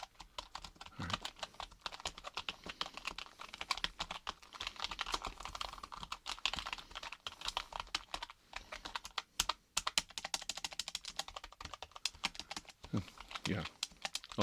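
Typing on a computer keyboard during clinic registration comes as irregular bursts of close, crisp key clicks with short pauses, and a voice speaks softly at times.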